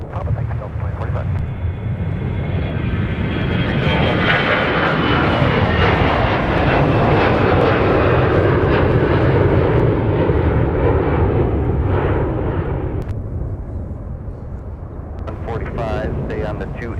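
Delta airliner in a special thank-you livery taking off from Minneapolis–St. Paul airport, a loud sustained jet engine roar that builds and then fades as the plane climbs away, with faint radio chatter underneath.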